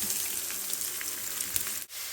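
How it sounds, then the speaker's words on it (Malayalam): Sliced onions hit hot oil in an Indalium pan and set off a steady, bright sizzle with small crackling pops, held close and constant for two seconds before a brief dip as the food is moved. "ഇനി നമുക്ക് നമ്മുടെ സബോള ഇട്ട് കൊടുക്കാം"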